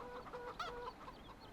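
A flock of chickens clucks in the video game Farming Simulator 17, several short calls close together with one sharper squawk in the middle, no voices.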